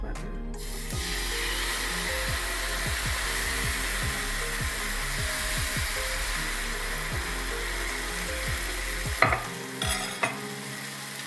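Jowar dosa batter fries on a greased hot tawa with a loud, continuous hiss and sizzle and a steady rapid crackle of spitting oil, ending in a few louder clicks and scrapes.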